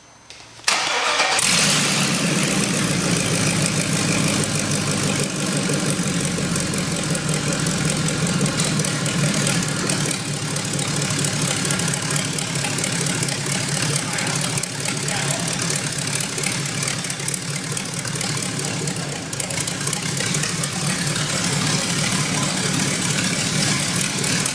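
An LS turbo engine in a Miata-based kart cranks and catches, then settles into a loud, steady, rumbling idle that runs on without a break.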